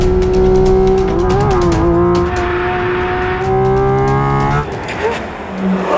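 Porsche 718 Cayman GT4 RS engine roars loudly and close, its pitch sweeping up and down through gear changes with a brief squeal of tires near the end.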